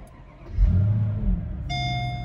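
A 2004 Mercedes SL500 R230 engine cranks and fires up nearby at a race event, settling into a steady idle with an electronic chime sounding as it runs.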